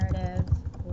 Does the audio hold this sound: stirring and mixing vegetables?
no